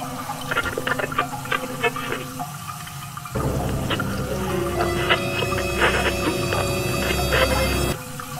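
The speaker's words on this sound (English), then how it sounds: "How is the water working in here?" Tap water runs in a game restroom in a horror video game, a steady wash that starts partway through and continues to near the end over a layer of game ambience and tones.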